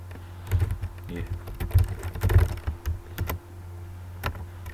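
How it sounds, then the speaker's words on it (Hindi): Computer keyboard being typed on during a basic Word lesson, with scattered key clicks and a space bar press, irregular and close, over a low steady hum with no talk. "इस स्पेस का बटन दबाऊँगा तो ये उर्दू में लिखना शुरू कर देगा"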